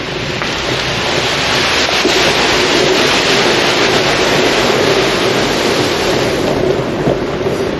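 Steady, dense rain during a night-time road trip, a loud continuous hiss mixed with wind and rumble, unbroken throughout with no voices.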